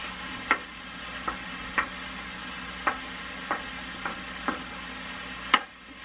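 Food sizzles softly and steadily in a pan, with a series of light, evenly spaced clicks and taps from stirring against the cookware, fairly close and without talk.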